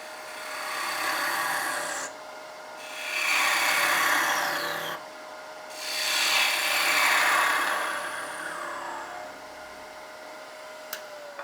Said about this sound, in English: let's just clean off the face and just show you a little bit of how to get the inside out with the 4040